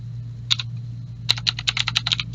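A computer keyboard being typed on to enter a password: a short burst of clicks, a pause, then a quicker run of close, crisp keystrokes in a quiet room.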